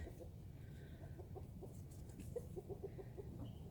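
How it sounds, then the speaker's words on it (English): A rooster clucks in a chicken coop, a series of short low clucks close by against steady background noise, with more clucking bursts toward the end. "Just got attacked by the rooster."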